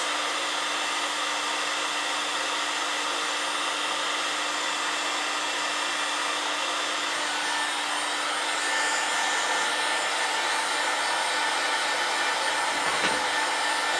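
Heat gun blowing hot air onto curing resin, a steady continuous whine and rush of air held at constant loudness throughout, close with no speech.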